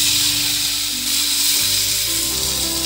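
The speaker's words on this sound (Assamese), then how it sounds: "এইখিনি এতিয়া ভাজি লম" Panch phoron spices and dried red chillies sizzle loudly in hot oil in a pan, a steady, close frying hiss with no talk.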